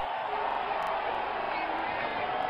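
Stadium crowd in the cricket game Real Cricket 20 cheering a six, a dense steady roar of many voices with a few whoops, filling the whole stretch at an even level.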